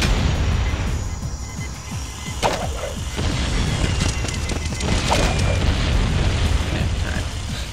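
Bombs explode in Jak 2, a few dull booms rising out of a dense, roaring wash of game noise that stays loud and constant.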